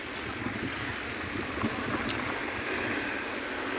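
A steady, low rumbling tractor engine runs continuously at a moderate distance in a market yard, a broad droning hum with no breaks.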